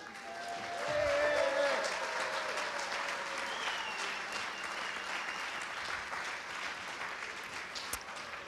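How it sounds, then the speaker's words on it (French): Audience applause at an economics debate fills the room steadily and evenly, rising early and then holding a dense, continuous patter throughout, with a faint voice briefly audible near the start. "merci pour ces applaudissements immérités"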